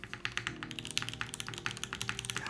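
Rapid typing on a Frost TKL custom tenkeyless mechanical keyboard, a steady stream of close, crisp keystroke clacks with the occasional heavier thock, heard alone without any voice.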